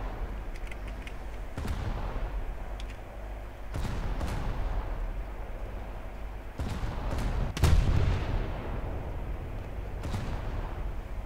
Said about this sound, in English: Magazine detonation.